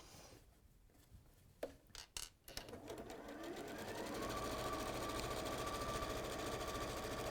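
A sewing machine stitches fabric pieces together for a cushion or wall hanging, starting after a few brief handling clicks and then running as a steady, fairly close mechanical whirr for several seconds.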